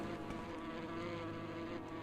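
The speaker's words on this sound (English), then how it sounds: "Wasps. I hate wasps." Wasps buzzing in Morrowind, a continuous close droning hum with a steady pitch that holds without break for a couple of seconds.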